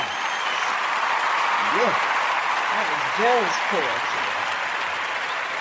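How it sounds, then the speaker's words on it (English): Audience applause after a poetry reading at a funk show, a broad steady wash of clapping that fills the whole stretch, with a voice speaking briefly over it. "Let's give her some applause."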